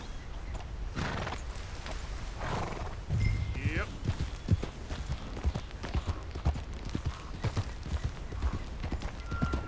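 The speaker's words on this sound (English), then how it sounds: "We'll need to go on a horse." In Red Dead Redemption 2, horse hooves clip-clop in a steady rhythm with a brief whinny early on, the hoofbeats continuing under spoken dialogue.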